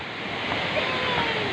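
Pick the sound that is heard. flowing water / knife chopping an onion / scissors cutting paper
flowing water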